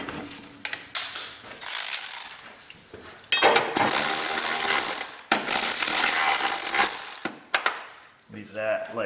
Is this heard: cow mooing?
no